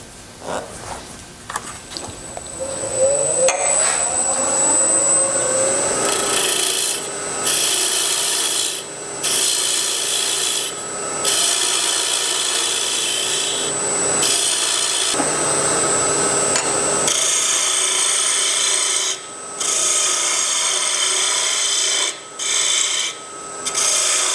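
A 3/8-inch spindle gouge cuts a box elder lid spinning on a lathe at about 1800 RPM, giving loud, continuous scraping bursts with short pauses between passes over a steady high motor whine.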